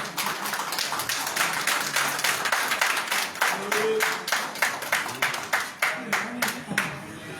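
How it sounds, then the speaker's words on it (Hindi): An audience at a Holi special ceremony applauds with a steady patter of many hands clapping that thins into a few slower, distinct claps toward the end. "ताली बजाइए भाई।"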